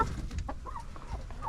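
Chocolate Orpington hens clucking softly at close range, a few short murmuring calls repeated over low background noise, with no talking.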